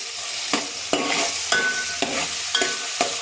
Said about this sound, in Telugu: ఇప్పుడు కట్ చేసుకున్న పెద్ద ఉల్లిపాయ వేసాను అలాగే ఒక పచ్చిమిర్చి కూడా వేశాను